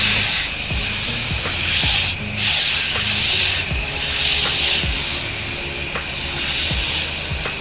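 Cleaning mix sprayed onto the front of a house during house washing, a loud continuous hiss that swells and dips as the spray moves, with faint mechanical ticks underneath.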